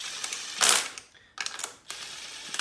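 Impact wrench lightly snugging the cylinder head bolts on a Honda engine for an 800HP build, giving two loud buzzing bursts separated by a short pause, close by with no talk.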